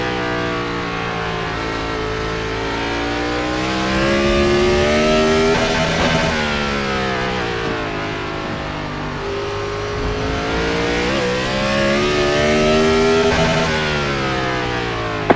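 A Gen 4 race car at Sonoma circles the track, its engine droning loudly and rising and falling in pitch through repeated upshifts and downshifts, heard continuously from onboard.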